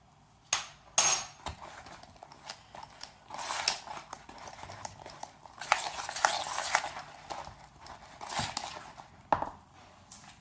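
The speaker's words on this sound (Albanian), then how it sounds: "E përzijmë derisa të na bëhet masa e njëjtë." Cake batter with blueberries and chocolate being stirred by spoon in a bowl, a run of scraping, clinking strokes of uneven rhythm, close and moderately quiet, with no voices.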